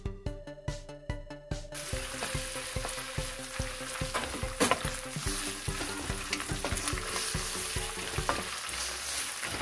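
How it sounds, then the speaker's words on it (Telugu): Sliced onions with curry leaves, green chillies and a pinch of salt frying in a pan, a dense crackling sizzle broken by regular knocks and scrapes of a spoon stirring, with a rhythmic tapping at the start. "ఆనియన్స్ కొంచెం ఫ్రై అయ్యేదాకా బ్రౌన్ కలర్ వచ్చేంత వరకు ఫ్రై చేసుకోవాలి"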